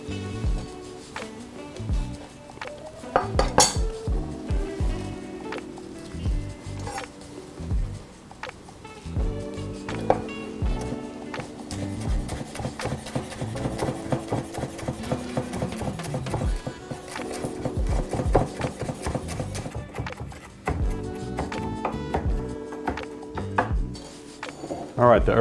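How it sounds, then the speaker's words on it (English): Fresh cilantro is chopped on a board, a knife tapping in irregular clusters of close, sharp knocks with brief pauses, while a person talks intermittently. "some cilantro from the top of the bunch. I'm going to chop this up."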